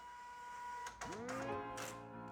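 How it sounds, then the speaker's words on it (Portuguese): A Zebra ZT230 label printer runs its automatic calibration: a faint motor whir with a rising mechanical tone and a few soft clicks, heard alone in a quiet room. "E agora aperto pause para poder fazer o processo de calibração automaticamente."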